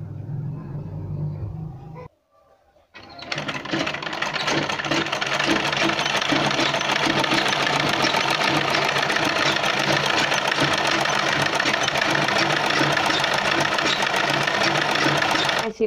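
A sewing machine stitching blouse fabric. After a short quiet pause it starts up into a steady, fast mechanical whirr and rattle that runs loud and unbroken to the end.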